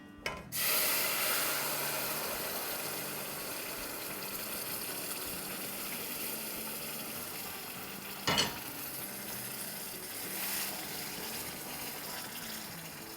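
Liquid pours slowly and steadily into a large pot for sooji halwa, giving a continuous rushing wash with a brief louder splash partway through and no talk.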